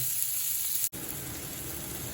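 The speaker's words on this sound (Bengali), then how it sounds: "এই পেঁয়াজটা ভালো করে ভাজা হওয়া পর্যন্ত অপেক্ষা করব।" Loud, steady sizzle of onions frying in a pan, broken by one brief dropout partway through.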